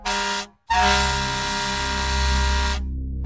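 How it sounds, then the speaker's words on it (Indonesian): A bus horn honks on a road, one short loud blast, a brief gap, then a longer sustained blare that cuts off. "Terdengar suara klakson sebuah bis menyadarkan pria itu."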